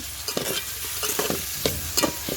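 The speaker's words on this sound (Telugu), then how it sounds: "పచ్చిమిర్చి, ఉల్లిపాయలు, కరివేపాకు బాగా వేయించుకోవాలి." Green chillies, onions and curry leaves fry in a pan over a wood-fired stove, sizzling steadily while a utensil scrapes and stirs in a few distinct strokes close by.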